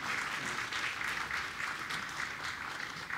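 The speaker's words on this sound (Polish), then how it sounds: "Proszę o wielkie brawa, gromkie brawa." Audience at an awards ceremony clapping steadily, a faint, even patter of many hands throughout.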